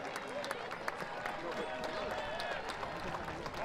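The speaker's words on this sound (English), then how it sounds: "Orange County making their changes as Ethan Zubak waltzes off to an applause" Stadium crowd at a soccer match applauds as player Ethan Zubak leaves the field, a soft, distant patter of clapping under a commentator's voice.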